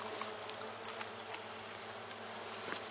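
Agitated honey bees buzz steadily around an opened hive, a dense, continuous high insect drone with no voices.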